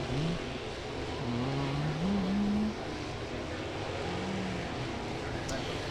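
Race cars on hot laps at Volunteer Speedway, engine notes rising and falling as they circle the track, fairly distant under a steady ambient roar, with a commentator talking over them.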